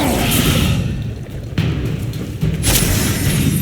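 A Confringo spell blast in Hogwarts Legacy goes off as a loud, booming impact with a crackling, shattering burst, followed by further thuds and whooshing hits in quick succession.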